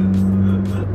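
A 2018 Honda Brio Satya 1.2 manual hatchback accelerates from a stop, its engine a close, steady droning hum for about a second.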